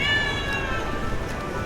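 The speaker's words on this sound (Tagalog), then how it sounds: "Meow meow." A single cat meows briefly and up close, a short tonal cry with no talking around it.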